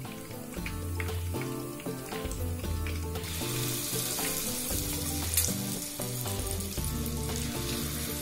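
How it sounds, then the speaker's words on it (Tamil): Fish coated in homemade masala fries in hot oil, giving a steady, close crackling sizzle that runs throughout with background music underneath. "மீன்லேயே நல்லா மசாலா இறங்கி நல்லா பொரிஞ்சு வந்திருக்கு."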